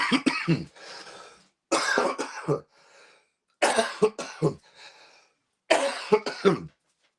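Several short bursts of coughing in clusters, each a few harsh rapid coughs, close and loud, separated by quiet pauses with softer breathy sounds.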